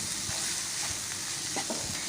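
A shrimp filling for buns sizzles and fries in a pan, a steady close hiss with a few soft stirring scrapes, with no talking.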